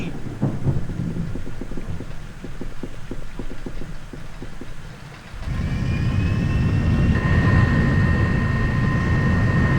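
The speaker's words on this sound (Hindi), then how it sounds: "अब ये बॉम्बर यहाँ से निकल गया है" A bomber aircraft in the video game Hidden & Dangerous flies off. Faint clicks give way to a sudden loud, sustained engine roar with a rising whine that holds to the end.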